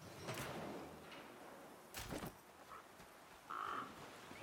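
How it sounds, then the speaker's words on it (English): A crow caws in The Flame in the Flood video game, giving a few short harsh calls at a middle distance, spaced out against a steady background ambience. "Oh, another crow."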